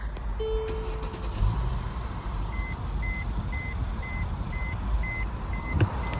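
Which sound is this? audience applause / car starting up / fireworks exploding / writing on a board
car starting up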